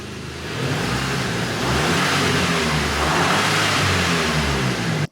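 A rebuilt VW Golf GTI engine, with a boost pressure fault, revs loud and close, holding a steady, heavy drone with a slight rise partway through and cutting off abruptly at the end.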